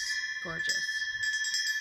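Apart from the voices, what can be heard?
brass elephant bell ringing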